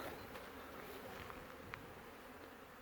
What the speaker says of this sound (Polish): Pszczółki korzystają z pięknej pogody. O, każdy ul chodzi.